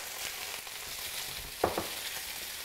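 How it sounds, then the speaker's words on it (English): Fennel, yellow onion and Granny Smith apple sautéing in a pan, a faint, soft sizzle with one brief clack of a utensil near the end. "we're just going to go ahead and saute the vegetables back in the exact same pan"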